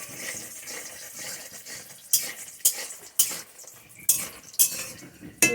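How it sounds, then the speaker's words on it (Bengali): Lentil dumplings (dal bori) frying in a pan with a soft steady sizzle, then a run of sharp scraping stirs of a spatula against the pan, roughly every half second near the end. "ডালের বড়িটা লাল লাল করে ভেজে নেই বন্ধুরা"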